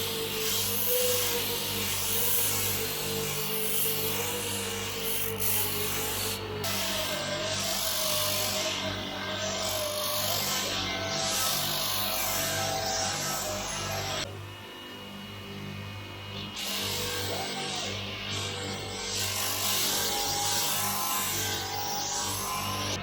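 A belt grinder with grease on the belt polishing a 74-year-old chrome bumper, a steady sustained whirring grind with shifting pitch as the metal is worked, briefly easing then resuming, loud and continuous.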